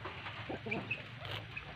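A chicken clucks softly a few times close by, short chirpy notes over a low background murmur.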